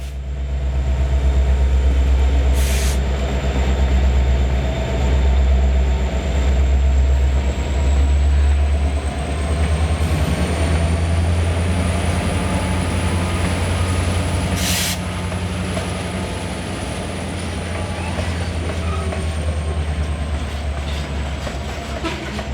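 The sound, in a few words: freight train with SD70 diesel locomotives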